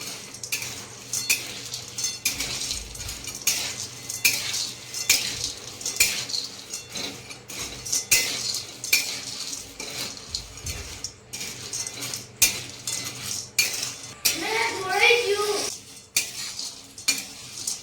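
Mango seed kernels roast in hot ghee over a low flame, a steady close sizzle broken by frequent spoon scrapes and clinks against the pan as they are stirred.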